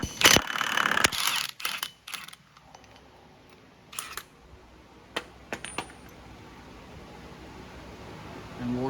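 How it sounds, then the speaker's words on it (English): A ratchet works the front axle nut off an Arctic Cat Wildcat 1000 during a wheel bearing job, giving bursts of sharp metallic clicks and clinks at intervals with quieter gaps between. "Time to remove our axle nut."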